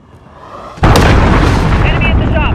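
Cruise missile detonation in Call of Duty: Modern Warfare: a sudden, loud, close explosion that erupts after a brief rising whine and then rolls on as a sustained roar of debris and rumble, with radio-like voice chatter layered on top.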